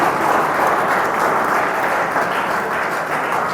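A hall audience claps together at a motivational talk, a loud, even wash of applause sustained for a few seconds with no talking over it.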